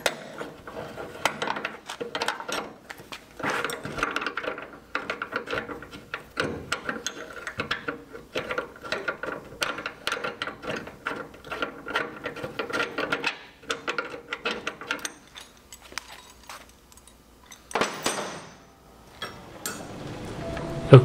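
A hand ratchet clicks in quick repeated bursts while loosening bolts on the bed of a 1966 Chevrolet C20 truck, close and crisp, with short pauses between runs and a few metallic clunks.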